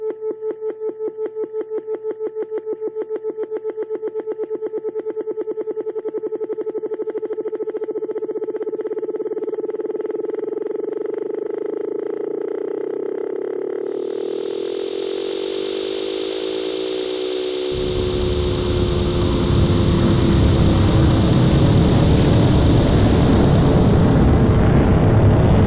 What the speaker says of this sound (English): the engine's going. I think it's time for me to lift off.